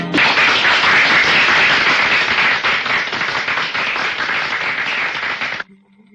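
A crowd breaks into loud, dense clapping, sustained for about five seconds before it cuts off abruptly into near silence.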